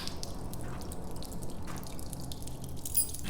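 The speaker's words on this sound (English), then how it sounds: "waterfall on top of it." Water dripping and splashing in a dank, grimy area in the horror video game Condemned Sinners, a steady patter of drips over a continuous low rush, fairly quiet with no talking.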